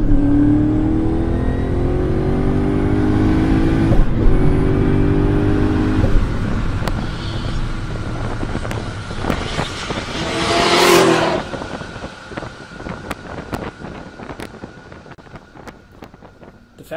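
A twin-turbo Saleen S7 supercar drones loudly with a harmonic engine note that swells and falls through revs, mixed with wind rush, then fades toward a rougher, fainter rumble.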